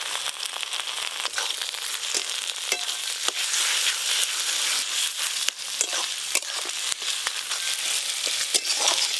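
Onion, crushed garlic and ginger paste fry for a mutton curry, a bright, constant sizzle with crackles and the scraping clicks of a stirring spoon, and no one speaking.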